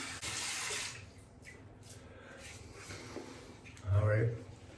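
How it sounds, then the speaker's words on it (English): Hot water runs from a tap to warm shaving soap, a soft, close splashing stream that briefly swells louder, with a voice talking over it. "Warm up the soap under the hot water."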